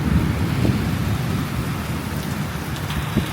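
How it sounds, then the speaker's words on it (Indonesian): Heavy rain pours down in Singapore, a dense, loud and steady hiss of drops hitting surfaces close by, with low rumbling underneath and no talk. "Hujannya gila. Ini gila banget."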